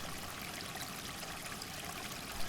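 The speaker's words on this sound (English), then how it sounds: "Dog Pound Creek trickling along" Dog Pound Creek trickles along past snowdrifted roadside ditches on a winter day, a steady soft wash of running water heard alone and unbroken throughout.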